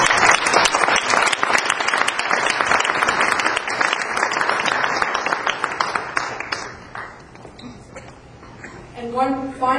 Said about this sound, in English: I would like the crowd to join with me and give you a round of applause